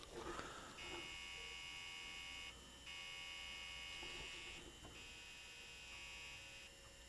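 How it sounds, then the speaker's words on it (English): An NCR 3220 buzzer buzzes steadily on power up, a faint continuous electronic tone that cuts out briefly a few times, with a low hum beneath and no talk. "Yeah, immediately buzzing on power up."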